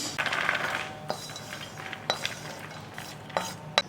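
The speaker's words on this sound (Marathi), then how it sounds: "अक्रोड चांगले भाजलेले आहेत, आता एका ताटात काढून घेते" Roasted walnuts are scraped out of a kadhai onto a plate while dink ladoo are being made, giving a rattle of nuts sliding off at the start, then a few sharp metallic clinks and taps.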